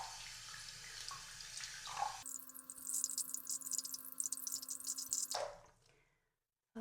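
A kitchen sink tap runs water over a Monstera Albo tissue culture being rinsed, a steady splashing stream that starts abruptly, holds for about three seconds, then cuts off, leaving faint drips.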